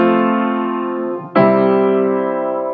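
Two sustained chords sound one after the other on a single instrument, forming a 4-1 plagal cadence: the first rings steadily and fades slightly, then the second strikes clearly and holds, rich and close.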